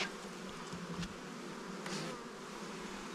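A steady, dense drone of many honey bees buzzing close by at a hive, continuous throughout with slight swells in intensity.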